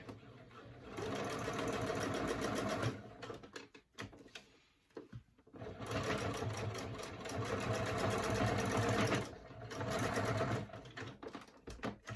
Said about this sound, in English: we're just going to use a basting stitch and we're just going to attach it with a very, very small seam allowance